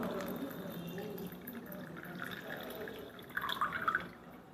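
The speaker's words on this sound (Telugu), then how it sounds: "ఫస్ట్ గ్లాస్ తీసుకున్న తర్వాత ఇందులో హాఫ్ వాటర్ తీసుకుంటున్నాను." Water is poured into a glass until it is half full during an aloe vera juice demonstration. The pour is faint and splashy, with a few brighter trickling notes near the end.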